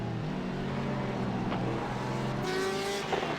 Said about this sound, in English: There's 2 lap cars coming through.